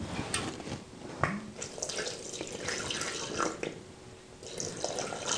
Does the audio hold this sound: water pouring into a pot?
yes